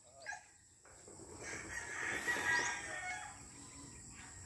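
A brood cock rooster crows once in a drawn-out call that rises and fades, fairly faint against quiet farmyard background, with a brief cluck just before it.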